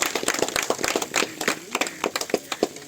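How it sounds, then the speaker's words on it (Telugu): A crowd claps at a bull-race prize ceremony in Obulapuram, with dense irregular hand claps close and fairly loud for a few seconds. "గట్టిగా చప్పట్లు కూడా గట్టిగా చప్పట్లో"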